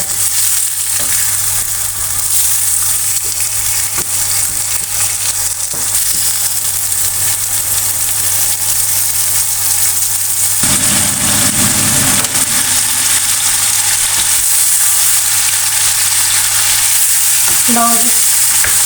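Carrot and cauliflower pickle with vinegar cooks in hot oil in a pot, a loud continuous sizzle and hiss with occasional stirring scrapes, steady throughout and close up.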